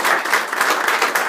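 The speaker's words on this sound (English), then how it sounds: "So give them a round of applause." An audience at a chamber of commerce coffee gathering gives a loud round of applause for Iowa Distributing Company, dense overlapping claps filling the short burst close to the listener.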